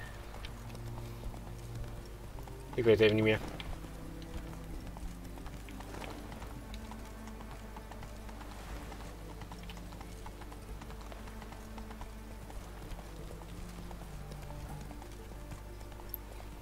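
Horse hooves clip-clop in the video game The Witcher 3: Wild Hunt, a short, louder burst of hoofbeats early on, then faint over a low ambient game soundscape while someone speaks briefly.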